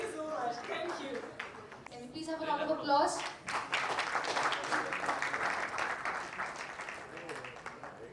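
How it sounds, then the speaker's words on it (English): A conference crowd breaks into sustained clapping that swells and carries on steadily, with a voice speaking over the start before the applause takes over. "Can we please have a round of applause?"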